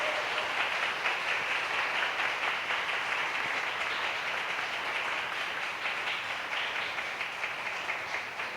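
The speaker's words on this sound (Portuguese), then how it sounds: "Vamos aplaudir o Senhor e a vida do Zé Antônio?" Church congregation applauding together at a communion service, a steady dense wash of many hands clapping that holds evenly for the whole stretch without voices.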